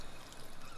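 Water gushes from a water pump in Fallout 4, a dense, steady pouring rush that stays level and close for under a second, with no voices.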